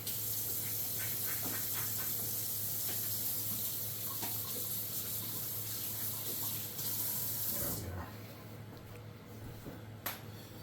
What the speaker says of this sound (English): give our hands a quick wash